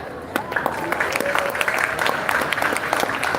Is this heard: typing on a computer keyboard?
no